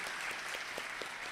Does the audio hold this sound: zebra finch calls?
no